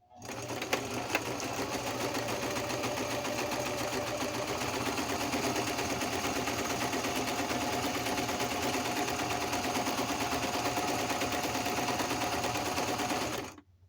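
A sewing machine stitches through paper in one steady, unbroken run of rapid mechanical chatter, close and even in level from start to finish, with no talking.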